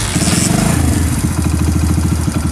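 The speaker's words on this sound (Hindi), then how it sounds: "बाइक स्टार्ट हो गया यहाँ पे" A Honda CD100 motorcycle engine, freshly assembled, starts and settles into a loud, steady thumping idle with a fast regular beat and some mechanical clatter, close by with no talk.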